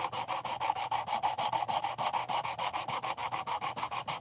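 A knife bevel is reprofiled on a sharpening stone in steady back-and-forth strokes, a rhythmic rasping scrape repeating about five times a second, close and loud, with no talk.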